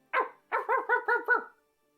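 A dog barks from behind a very high, solid fence, one sharp bark followed by a quick run of five more, clear and fairly close with silence around them.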